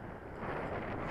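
Strong headwind buffets the microphone at an RC plane airfield, a steady broadband rumble of wind noise that fills the whole moment without letting up, loud and close.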